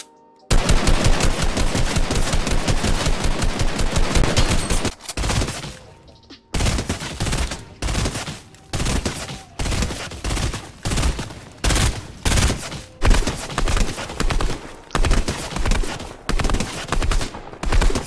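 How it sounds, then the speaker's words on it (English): Assault rifles fired from the hip in a shooter video game, a long sustained automatic burst followed by a string of shorter bursts with brief pauses between, loud and close. "I'm gonna try to hip fire with the ARs real quick,"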